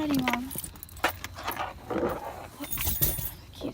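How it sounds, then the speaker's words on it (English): Keys jangle and clink close by in bursts of metallic rattling, set in a parked car with faint background movement and no talk over it. "Put the keys up there."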